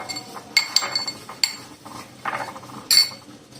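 Peanuts are tipped into a bowl of vegetable salad and stirred in, producing scattered light clinks and scrapes of a utensil against the dish, close and intermittent with quiet gaps between.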